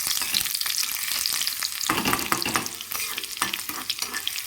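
Crushed garlic drops into hot oil with black cumin seeds and sizzles loudly, crackling close up while being stirred.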